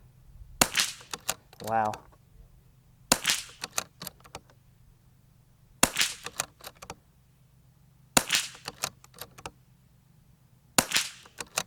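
Five sharp shots from a .22lr rifle with precision ammunition, evenly spaced about two and a half seconds apart, each a crisp crack with a brief tail, while a voice speaks briefly between them.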